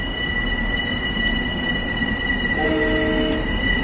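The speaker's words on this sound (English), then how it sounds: "Let's watch the train go out." A train departs in the video game Train Sim World 2, a loud, steady rumble of rolling wagons with sustained high wheel squeal throughout and no talking.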